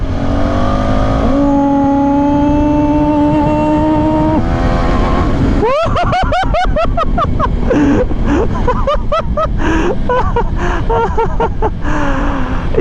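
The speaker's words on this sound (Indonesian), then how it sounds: "Torsinya ya kita coba nih ya, di gigi 3 kecepatan 50 RPM 4500" Single-cylinder 390cc KTM Adventure 390 motorcycle accelerating in third gear, engine tone climbing steadily under loud wind rush, then a stutter of shifting revs as speed builds.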